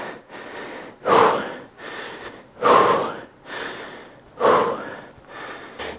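A man breathes heavily after deadlifts, with three loud, rasping gasps spaced a second or two apart and quieter panting in between, close to the listener.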